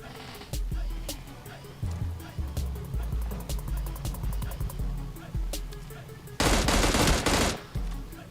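Rapid bursts of in-game gunfire in PUBG Mobile Lite, repeated sharp cracks in quick volleys over a low background hum, with a loud sustained rattle of automatic fire late in the sequence.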